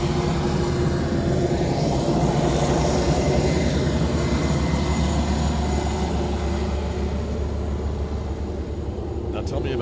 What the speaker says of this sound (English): That's a government King Air.